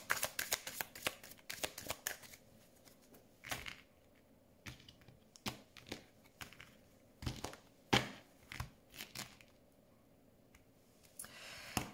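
A deck of tarot cards is shuffled and cut close up, with quiet riffling bursts and sharp card snaps coming in irregular clusters, then short pauses, and no talk.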